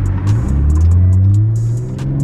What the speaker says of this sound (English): my car is popping like crazy too